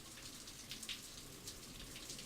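Rain falls steadily outdoors in Los Angeles, a soft continuous hiss with scattered brighter droplet ticks and patters, captured at close range with no voices.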